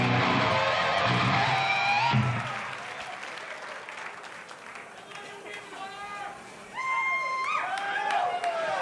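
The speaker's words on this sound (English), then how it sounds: "Give yourselves a round of applause right now." A concert audience at a metal show claps and cheers loudly for about two seconds, then the noise thins to scattered clapping and shouts, with whistles and yells rising again near the end.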